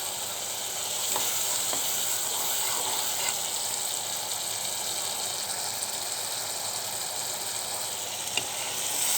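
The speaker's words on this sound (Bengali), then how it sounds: "সেই জন্য ভালো করে কষিয়ে নিচ্ছি।" Spice paste fries and sizzles in a pan with small kechki fish, a steady close crackle with occasional soft stirring scrapes and no talking.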